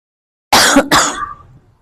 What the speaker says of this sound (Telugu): కొంచెం దగ్గుని జలుబు పోలేదు